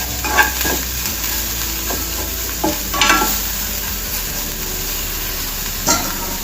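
A spiced corn mixture with chili powder and cumin powder stirred in a bowl by hand; soft scraping and mixing strokes with a few brighter clinks, steady and close, with no talking.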